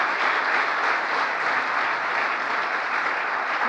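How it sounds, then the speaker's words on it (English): Crowd at a speech by US President Biden on the Inflation Reduction Act breaks into loud, dense, continuous applause, a steady wash of clapping with no pauses. "That's an applause line."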